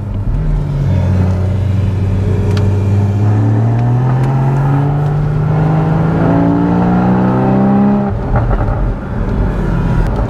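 A Porsche Boxster GTS 981 with a 3.4 flat-six pulls hard on an Alpine road, its loud, close engine note climbing steadily in pitch for about eight seconds before an upshift drops it again.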